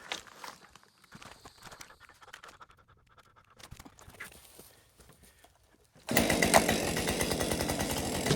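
A Husqvarna 550XP chainsaw: faint scratchy clicks and handling noises give way to the engine suddenly firing, then running loud and steady at close range.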